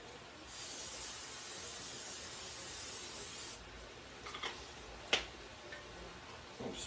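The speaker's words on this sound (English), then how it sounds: "I'm going to go ahead and spray my skillet." Cooking spray hisses onto a hot skillet in a long steady burst, followed by softer short sprays and a few clicks, fairly faint with no talk.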